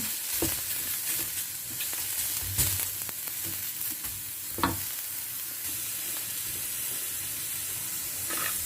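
Ginger and other aromatics stir-fry in a hot pan for baked shrimp with glass noodles. A steady sizzle and hiss runs throughout, with occasional clanks and scrapes of the spatula.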